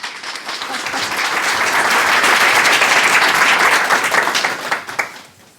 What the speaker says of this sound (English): fantastic applause